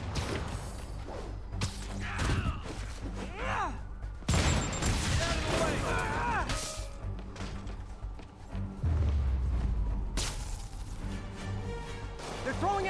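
Rockets and gunfire in a Marvel's Spider-Man street battle: bursts of shots, whooshing projectiles and crashing impacts, with a voice talking over the chaos.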